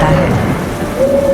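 Steady rain pouring outside a home in heavy weather, a loud continuous wash of droplets with a faint tonal hum running through it.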